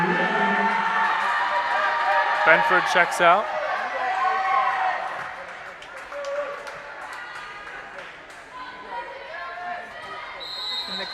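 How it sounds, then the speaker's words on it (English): Spectators at a Wheaton College volleyball match against Wisconsin Lutheran College cheer during a substitution, a brief burst of excitement rising over the gym's murmur, while a commentator speaks over the noise. "the crowd getting excited for this substitution here"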